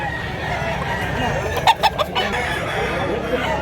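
Gamefowl chickens at a Cebuano seller's yard give a few clucks and a short crow, mid-distance over steady background noise, with faint voices nearby.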